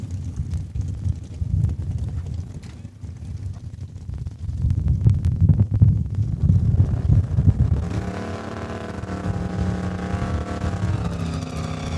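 Junior dragster race cars running a qualifying time trial at Saskatchewan International Raceway, a steady rumbling engine drone that swells midway, then gives way to a higher harmonic whine from a revving engine, heard at moderate distance.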